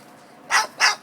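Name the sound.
dog barking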